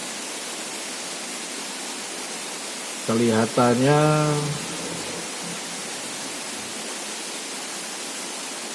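Steady broadband rush of the Grobogan Sewu waterfall, a constant noisy roar filling the whole clip, with a brief spoken word from a person near the middle.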